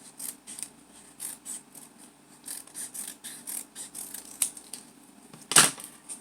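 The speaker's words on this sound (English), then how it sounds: "So I'll cut another skinny piece off." Scissors snipping a skinny strip of paper for a recycled vase shelf art project, a close run of quick regular crisp cuts followed by a louder sharp snap near the end.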